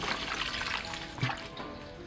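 Water poured into a glass bowl set around a dish with dried rose petals, a close, light splashing and trickling that swells briefly midway, with faint background noise and no talk.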